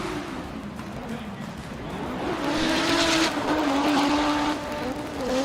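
A Nissan 180SX drift car at a Drift Kings Asia round in Malaysia roars at high revs, the engine note rising and holding as tires squeal, with a commentator's voice running over it.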